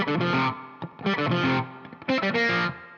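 Three quick bursts of distorted electric guitar from a song's solo: clipped, staccato lines mixing fretted notes with ringing open strings, separated by brief pauses.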